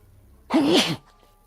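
A single sharp sneeze, loud and close, bursting out of near silence and ending abruptly.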